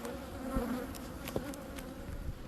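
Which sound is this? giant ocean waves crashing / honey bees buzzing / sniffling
honey bees buzzing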